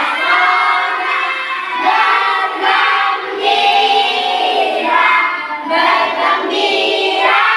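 Group of voices, likely children, singing the Indonesian patriotic song Sorak-Sorak Bergembira together, loud and sustained with short breaths between phrases and no other talk.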